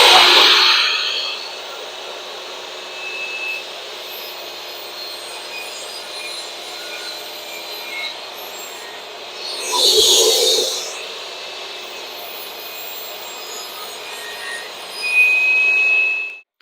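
A new SawStop table saw hums steadily at idle in a workshop, with two brief louder bursts as the blade cuts through wood for filler pieces, then a rising whine at the end.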